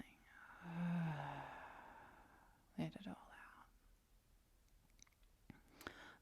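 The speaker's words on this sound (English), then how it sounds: "holding that breath, taking as much air as you can, and exhaling." A deep, slow exhaling breath during a beginner yoga flow, close and soft, a long airy whoosh followed by quieter breathy sounds and faint soft voice.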